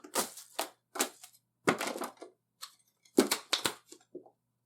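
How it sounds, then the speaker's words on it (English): A deck of playing cards ruffle-shuffled in the air with no table beneath, giving repeated crisp riffling bursts in quick clusters of flutter and snap, loud and close with short pauses between. "and then you sort of close the deck back together, and you got a nice ruffle shuffle"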